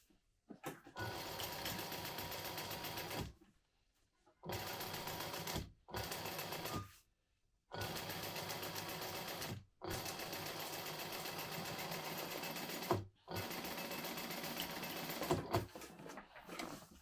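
A sewing machine sews a side panel onto a modified Trailblazer-style bag in long, steady bursts separated by short pauses, close and clear with no talking.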